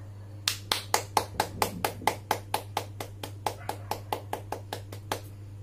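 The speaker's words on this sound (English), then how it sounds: "Clap your hands." In a nursery-class warm-up, children clap their hands in a long, brisk, even run of roughly twenty crisp claps, close and clear over a faint electrical hum.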